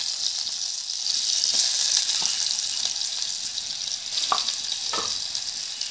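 Mustard seeds and shallots frying in hot coconut oil, a dense steady sizzle with a few sharp pops and spatters near the end, close and without talk.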